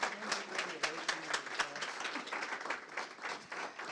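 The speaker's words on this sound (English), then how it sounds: "Let's give her another round of applause, please." An audience applauds at an event honoring MLK, with a lively burst of many clapping hands, sharp claps standing out near the front, and a voice briefly audible underneath early on.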